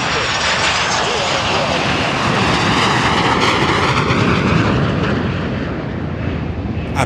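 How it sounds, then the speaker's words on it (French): Angolan Air Force Sukhoi 30K fighter jets fly over Kinshasa, a loud, steady broadband jet roar filling the whole stretch without easing, with a faint hint of voices underneath. "des avions des chasses de l'armée de l'air des forces armées angolaises ont survolé ce vendredi"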